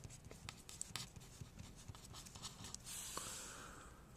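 Someone writes out an algebra equation by hand, with a run of scratchy pen or pencil strokes close up. The strokes come in quick bursts and end in a brief steady rasp, with no talking.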